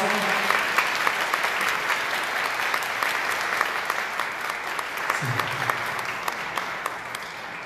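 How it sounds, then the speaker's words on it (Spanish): Steady applause fills a church as the congregation claps during Sunday Mass for the Third Sunday of Easter, a dense continuous patter lasting several seconds with no talk over it. "Bien, un aplauso."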